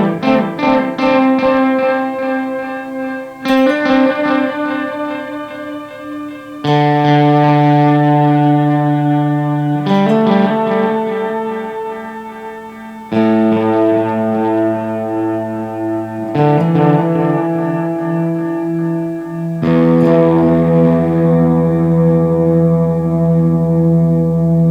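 An electric guitar plays through a Boss DD-500 delay pedal set to a 400-millisecond preset. Sustained chords ring loud and distorted, each followed by repeating echoes, in several phrases with no talk.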